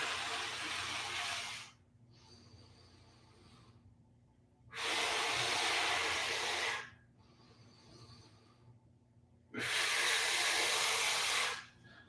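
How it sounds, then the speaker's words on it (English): Slow, deep breaths during a side plank exercise, three long airy exhales each lasting about two seconds with quiet gaps between, close and clear. "3 inhales and exhales."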